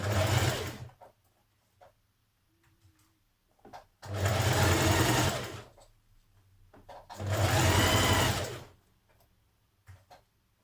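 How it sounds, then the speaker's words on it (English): A sewing machine stitches a jersey armband onto a dress with a 1 cm seam, running in two long bursts separated by quiet pauses and small handling clicks, with no talking. "Now stitch your armband on, again with a 1 cm seam allowance and stretching slightly as you go."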